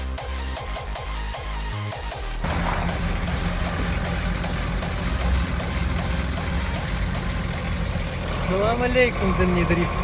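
A BMW E28 running in a snowy parking lot, a steady engine drone that grows louder and rougher partway through, with a voice speaking over it throughout.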